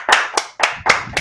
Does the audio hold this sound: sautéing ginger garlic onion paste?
no